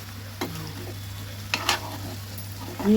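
Eggplant pieces being mixed with salt, chilli powder and ginger paste in a pan for an East Godavari style dish, heard as a steady low sizzle with a few scraping stirs and a clink near the end.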